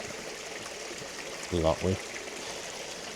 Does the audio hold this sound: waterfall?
yes